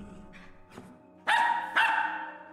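A dog in the video game Tsioque gives two sharp, close barks in quick succession after some soft whimpering sounds.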